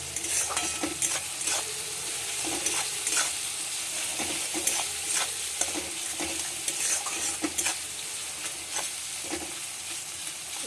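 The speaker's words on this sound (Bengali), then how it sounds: "এবার আমি পেঁয়াজ, রসুন আর লঙ্কা কুচিটা আমি দিয়ে দিচ্ছি।" Onion, garlic and chopped chilli frying in mustard oil for beetroot vorta, with a steady close sizzle and repeated scrapes and clinks of stirring against the pan throughout.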